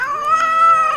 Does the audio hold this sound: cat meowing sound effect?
yes